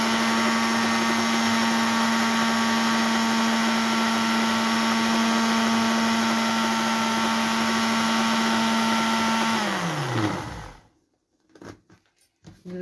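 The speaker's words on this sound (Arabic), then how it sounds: "وواحده واحده كده على الخلاط نفصل ونشغل تاني" A loud, steady blender motor whirs for several seconds, then winds down and stops, followed by a few faint clatters.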